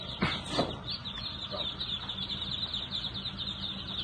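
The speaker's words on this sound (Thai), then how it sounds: "ก็เอาลูกเป็ดมาลงนะครับ" Muscovy ducklings being unloaded from crates at a duck farm, faint high peeping and chirping chatter running continuously, with a couple of short scuffling bursts near the start.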